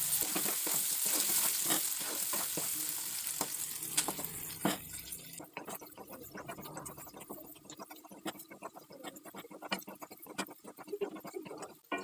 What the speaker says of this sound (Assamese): নিমখৰ লগত জলকীয়াখিনি ভালকৈ মিক্স কৰি ল'ম আৰু 1 মিনিটমান ভাজি থাকিম।